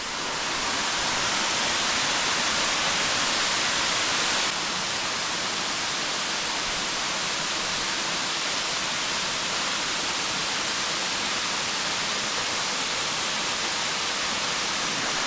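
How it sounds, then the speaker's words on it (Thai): Nakharat waterfall plunging from a cliff into a deep canyon, its water running down from Wat Khok Mon, roars as a steady, loud, close-up wash of white noise with no break. "นี่คือน้ำตกนาคราชครับทุกคน"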